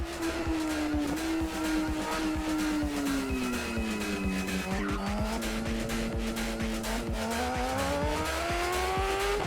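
Motorcycle engine from the Rims Racing video game, a loud, continuous racing-bike drone whose pitch rises and falls through gear changes and cornering, with no talking over it.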